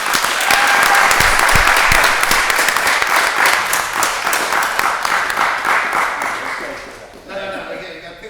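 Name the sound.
applause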